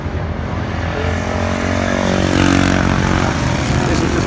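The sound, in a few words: BSA Rocket 750 triple motorcycle engine on warm-up lap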